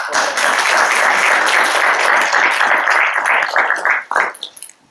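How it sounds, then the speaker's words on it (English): Loud, sustained applause from a large crowd, steady clapping that thins out and fades near the end. "he deserves a nice round of applause"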